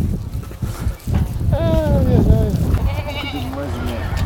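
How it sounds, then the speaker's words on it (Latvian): Cameroon mountain goats bleat several times in quick wavering calls, fairly close, over wind and background talk. "Tās ir Kamerūnas kalnu kaziņas"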